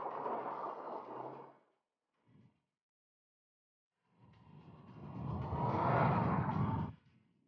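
A Subaru Impreza with a new DCCD system is driven hard through corners on a slippery snow-covered test course. A roaring engine surge fades out, a brief faint thump follows, then another loud, rising rush of engine and tyre noise.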